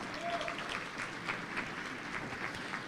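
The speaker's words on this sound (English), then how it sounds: "Please give a round of applause to Jim Allen." A round of applause at a justice gala: soft, fairly distant clapping from a crowd, even and continuous for a few seconds with slight swells.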